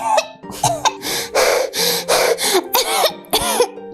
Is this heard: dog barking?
no